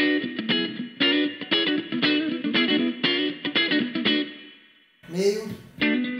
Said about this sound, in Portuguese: Vamos ouvir aqui o captador do braço.